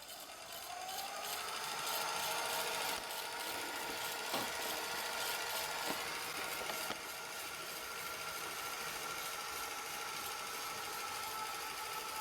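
Revere film projector motor whirring steadily as it rewinds film, a faint continuous mechanical hum with a slight rise in pitch early on and a few soft clicks, no speech.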